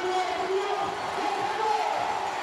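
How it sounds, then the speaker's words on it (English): An indoor arena crowd at a women's compound archery gold medal final in Nimes, France roars and cheers, a steady dense wall of voices with whoops holding loud throughout. "sends this crowd into a frenzy here in France"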